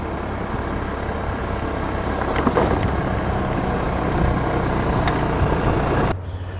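A car rolls steadily along a gravel road through Clark's Woods Park in Forest City, Iowa, with a continuous rumble of tires and engine and light wind buffeting the microphone, then an abrupt drop near the end.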